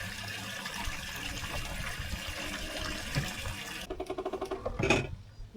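Water gushes steadily through a boat's outboard engine during a freshwater flush, a continuous broadband rush that cuts off near the end, leaving a few brief clattering knocks.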